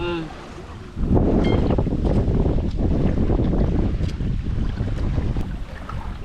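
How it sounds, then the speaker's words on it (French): Strong headwind buffeting the microphone beside a gravel pit lake, a loud rumbling roar that starts abruptly after a quiet second and keeps gusting with little break, with lapping water faintly beneath. "Grand vent de face"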